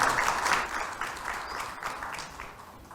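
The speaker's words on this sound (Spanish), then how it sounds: "Un aplauso." A church congregation applauds for a birthday, a brief burst of many hands clapping together that is loudest at the start and gradually fades.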